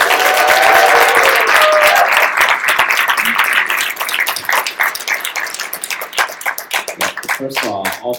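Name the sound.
audience applauding and cheering at a live event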